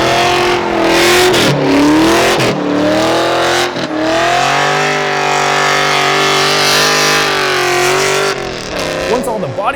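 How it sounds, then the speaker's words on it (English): A rebuilt junkyard Ford Mustang GT engine revs hard and holds high during a burnout, a loud continuous roar with pitch swells and a brief dip midway, easing off near the end; a voice is heard talking. "It's so easy to do burnouts now"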